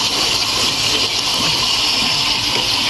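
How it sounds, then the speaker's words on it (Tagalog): Water gushing into a laundry tub or washing machine, a loud, steady rushing stream that stays constant from start to end with no talking. "Maglagay tayo ng tubig na."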